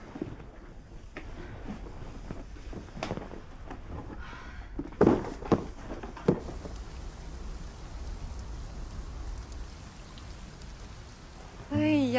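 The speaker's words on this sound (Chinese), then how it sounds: "这一下雨" Rain falls outdoors as a soft continuous hiss, interrupted partway by a few louder thuds and clattering knocks, with faint voice-like tones near the end.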